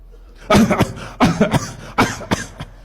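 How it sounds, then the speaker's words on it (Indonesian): A person coughs repeatedly and close up, about five or six sharp bursts grouped in pairs with short pauses between them. "Tolong batukkan."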